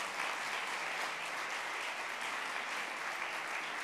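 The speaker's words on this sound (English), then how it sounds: "I would like you to start with a very warm applause" Loud, dense applause from a large audience, a uniform wash of clapping sustained throughout without any talking.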